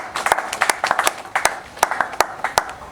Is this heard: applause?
yes